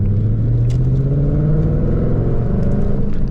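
A 2024 Ford Mustang GT V8 engine revs as the car accelerates, a loud, close, deep rumbling drone that rises steadily in pitch over a few seconds.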